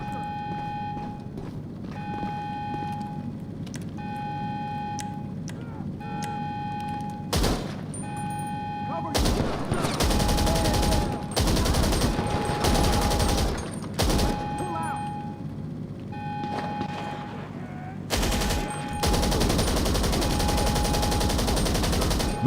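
Gunfire in GTA 5 Online, a magazine dump of rapid loud shots in several bursts over a steady beeping tone and background game noise, close and dense with short pauses.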